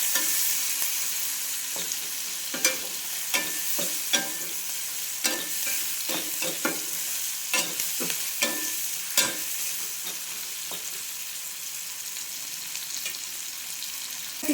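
Ivy gourd frying in a pan with turmeric, chili powder and salt, a steady close sizzle broken by regular scraping taps of a spoon stirring the vegetables.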